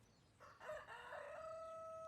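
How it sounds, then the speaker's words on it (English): A rooster crows once, a clear, faint call standing alone against quiet surroundings at a moderate distance. "The Lama is talking with roosters."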